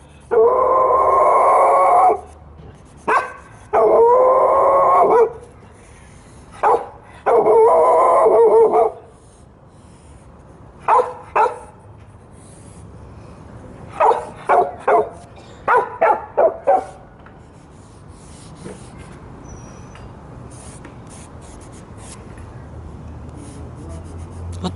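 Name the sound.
dog barking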